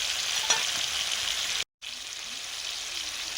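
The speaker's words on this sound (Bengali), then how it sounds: "এবারে আমি একসঙ্গে বাটা সরষে আর পেঁয়াজ দিয়ে দিলাম।" Mustard paste and onion frying in a pan with drumsticks, giving a steady, even sizzle throughout that breaks off for an instant, with a faint knock near the start.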